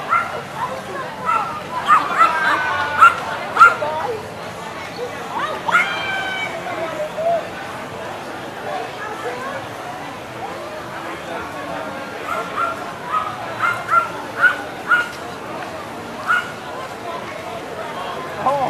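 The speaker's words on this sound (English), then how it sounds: "Why is that puppy barking at me?" A feisty puppy yaps and whimpers in repeated short bursts throughout, fairly close, with people talking over and between the barks.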